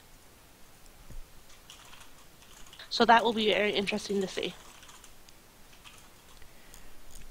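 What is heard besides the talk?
typing on a computer keyboard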